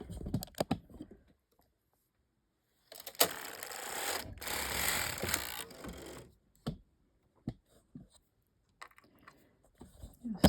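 A sock knitting machine carriage rattles across the needles with an automatic wrap, giving a steady mechanical clatter for about three seconds between quieter clicks and taps, close and fairly loud.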